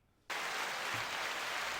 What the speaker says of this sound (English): Let me see if I can get this applause button right.